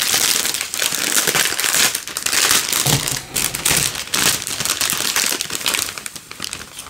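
Packaging from a surprise parcel of scrapbooking embellishments is crinkled and torn open by hand, a busy run of close, loud paper and plastic rustles in uneven bursts.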